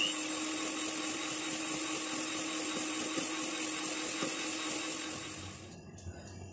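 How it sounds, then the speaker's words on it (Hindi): Butter, sugar and egg being beaten for biscuits with an electric mixer, a loud, steady close whir that runs for about five seconds and then cuts off. "अब अंडे के साथ इसको मजीद बीट करेंगे।"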